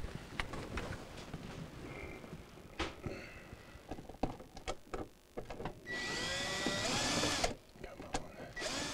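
A power drill drives screws into a refrigerator during a freezer defrost heater repair on an Admiral unit, with several short bursts and one longer sustained run of whirring near the microphone amid clattering handling noise.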